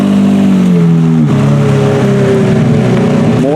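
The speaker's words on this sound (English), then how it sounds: "more cars coming in. We got an R35 with a Supra behind it" Cars rolling into a car show, including a Nissan GT-R R35 and a Supra, engines droning loudly and close with pitch shifting as they rev and pass, a steady mechanical rumble filling the whole stretch.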